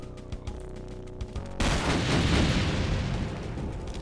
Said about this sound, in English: this gun is extremely powerful just because of the speed it just chisels up my bullets